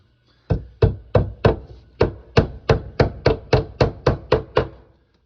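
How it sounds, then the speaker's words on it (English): Fourteen sharp, evenly spaced hammer blows ring out close by as plastic sheeting is tacked to the inside of a wooden wall for a hydroponic floating raft. Each knock decays quickly, and there is no talking. "So I'm going to start by tacking this plastic down."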